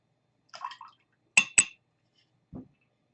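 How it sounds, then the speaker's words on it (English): Water is swirled and splashed in a cocktail mixer in a few short separate bursts: a soft sloshing pair first, then two sharper splashy pours close together, then a final small dull splash. "rinse out my mixer"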